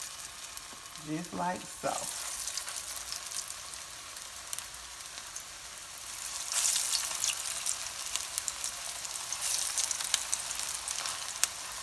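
Salmon croquettes or patties dropped into hot oil, a steady crackling sizzle that swells louder midway, with someone speaking briefly near the start.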